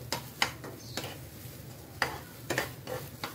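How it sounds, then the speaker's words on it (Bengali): Pointed gourd bharta mixture with leaves is stirred in a pan, giving quiet, irregular spoon taps and scraping clicks over a faint low sizzle. "আমি এগুলোকে ভালো করে নাড়িয়ে নেব যাতে মিশে যায়।"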